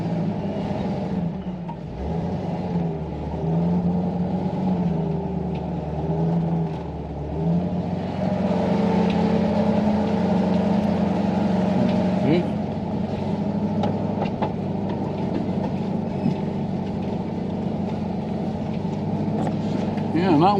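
A vehicle crawls slowly over a rough, rocky campground road, its low engine drone steady and close, with occasional bumps and creaks while a person talks over it for most of the stretch.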